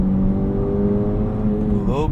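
A front-wheel-drive car accelerates up to speed, its engine a steady, close droning whine that climbs in pitch near the end.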